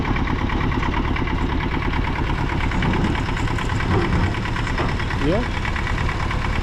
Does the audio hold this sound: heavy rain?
no